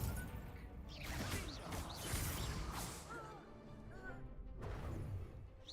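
Spell effects from a Harry Potter duelling video game: whooshes, crashes and magical impacts overlap in a dense, continuous wash, with faint voice-like calls mixed in throughout.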